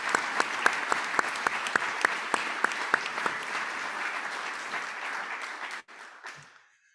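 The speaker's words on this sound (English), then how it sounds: "A round of applause for these leaders of our club." Audience at a Rotary Club of Savannah meeting breaking into steady applause with sharp individual claps, sustained for several seconds before tapering off abruptly.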